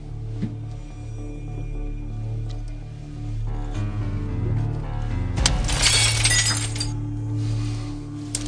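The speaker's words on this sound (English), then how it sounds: "Drops a glass." A glass is dropped and shatters in a soap-opera scene, a bright burst of breaking glass with scattered tinkling fragments in the middle of the clip over a low steady background hum.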